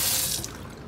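Water gushes steadily from a household tap just after the home's main water valve is turned back on, a brief continuous hiss and splash with no talk.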